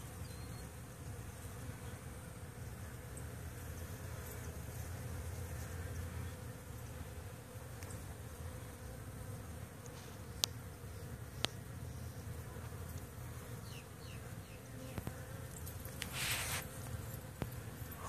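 Bees buzzing on a visit: a faint, continuous insect drone with scattered soft ticks and taps, quiet and without talking.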